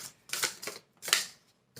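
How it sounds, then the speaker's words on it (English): Tarot cards are shuffled by hand, three or four quick papery riffling bursts with short pauses between them, close and fairly quiet. "So I am in the midst of shuffling here"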